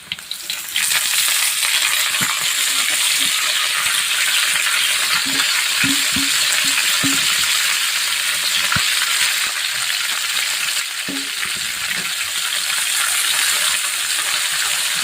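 Fenugreek leaves added to fried green chillies in a pan, a loud continuous frying hiss with clinking spatula strokes and scraping as the greens are stirred.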